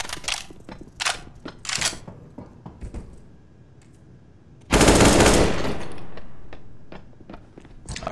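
M4 rifle fire in the video game CS:GO comes in repeated short bursts of crisp shots with mechanical clicks. A loud, sustained blast of fire follows midway, then more scattered shots.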